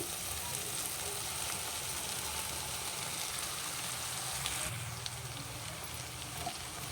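Chopped cabbage frying in a pan for a cabbage palya, a steady broadband sizzle that holds evenly throughout, close and fairly loud, with no talking.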